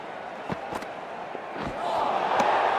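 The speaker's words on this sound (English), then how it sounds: "There's an almost tangible fervour throughout the crowd at the moment." Stadium crowd cheering in the cricket video game Cricket 24, a steady wash of crowd noise with scattered sharp claps and shouts, swelling louder toward the end.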